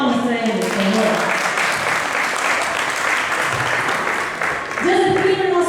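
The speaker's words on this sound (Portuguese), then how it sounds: "Uma salva de palmas para ele, por favor." Audience applause at a 2010 event in Mandirituba, Paraná, welcoming young Joseph Klimber, a loud, dense steady clapping that carries through with a voice talking over it at the start and end.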